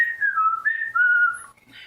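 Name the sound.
shrill ear-splitting whistle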